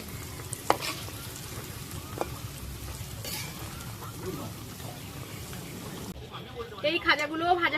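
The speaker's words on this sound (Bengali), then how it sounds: "একই রকম ভাবে এই খাজাগুলোও ভেজে নেব।" Khaja pastries frying in hot oil give a continuous crackling sizzle with occasional stirring clinks, then a voice speaks over the frying near the end.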